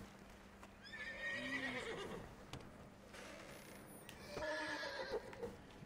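A horse whinnies twice with high, wavering neighs in the video game Red Dead Redemption 2, the second louder, over light background noise and a soft thud.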